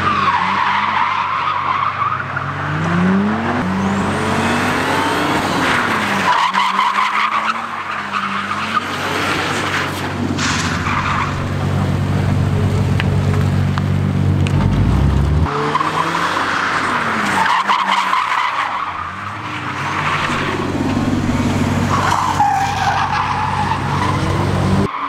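A car drifts on a Japanese touge mountain pass at Gunsai, its tires squealing in long, loud skids over steady engine roar that swells and fades across repeated slides.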